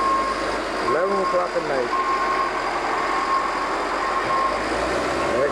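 A snowplow truck out in a heavy snowstorm sounds steady reversing beeps over a low engine rumble, fairly close, while a person talks over it.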